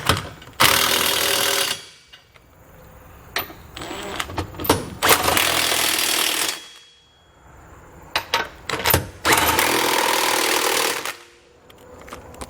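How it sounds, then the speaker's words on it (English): A 22mm socket on an impact or power wrench snugs down trailer hitch bolts on a 2020 Acura MDX, with three loud rattling bursts separated by short clicks and pauses, close by. "we can come back with a 22mm socket and snug everything down"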